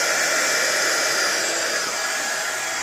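A hair dryer blows hot air over wet paint on an art journal page, a loud, close, continuous whoosh that holds steady throughout.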